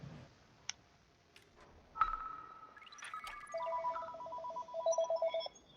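A telephone rings during a submarine naval game session: an electronic ringtone with repeated warbling tones that grows louder and pulses in short bursts near the end, alone without talk.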